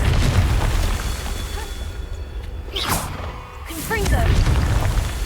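A Confringo fire-blast spell explodes in the video game Hogwarts Legacy, giving two booming, whooshing bursts a second or so apart over a steady low game rumble, with a voice speaking in between.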